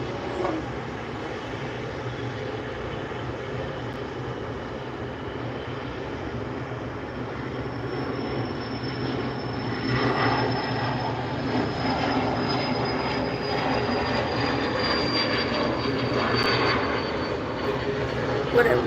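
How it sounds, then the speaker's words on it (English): A Beech 390 private jet takes off at John Wayne Airport (SNA), its engine roar holding steady and broad before swelling louder and rising in pitch as the jet accelerates, close and sustained. "Here's the takeoff from the Beech 390."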